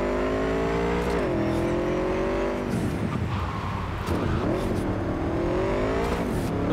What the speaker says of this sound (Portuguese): Nossa, eu curti andar de moto.